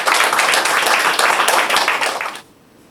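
A church congregation claps together to welcome a young man forward, a dense burst of hand claps that ends abruptly into quiet.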